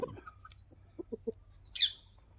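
Chickens give a few soft, short clucks spaced apart at low volume, with a higher bird-like chirp near the end against a quiet background.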